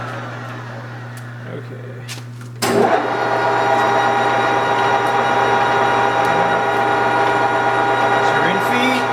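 A Kingston HJ-1100 17 x 43 inch lathe in a machinery shop starts up after a quiet moment and runs steadily at 650 RPM in high range, a loud constant mechanical whir and hum; someone speaks briefly.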